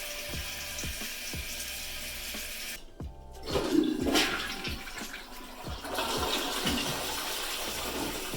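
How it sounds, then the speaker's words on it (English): Newly installed toilet in a remodeled bathroom flushing with a sudden close rush of water that swirls and gurgles, then settles into a steady refill hiss, with a few clicks beforehand. "First flush of the season."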